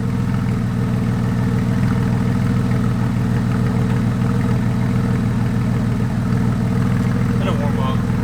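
A Porsche 996 flat-six with a muffler bypass idles steadily, a loud, deep, throbbing drone that holds even throughout with faint background noise.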